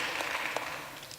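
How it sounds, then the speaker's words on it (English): An audience claps in a broad, even wash of applause that holds steady for just over a second. The sound is moderately loud and diffuse, with no voices on top. "Clap."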